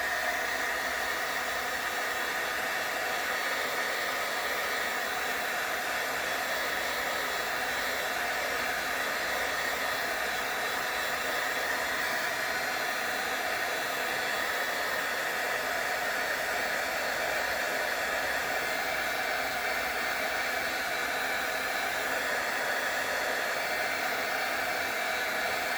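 A heat tool blows steadily for the whole stretch, a constant loud airy whoosh warming a faux tintype photo craft piece, with no talking.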